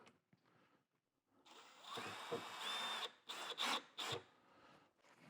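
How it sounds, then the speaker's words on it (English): Hand screwdriver driving a screw through a custom BMW mud flap into the wheel-well liner, with grinding, rasping turns building to loud scraping bursts near the close, heard close up, with no talk. "probably your best option is actually to use a hand screwdriver"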